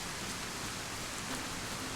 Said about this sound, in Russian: дождичек вот этот, который по сути почти не охлаждает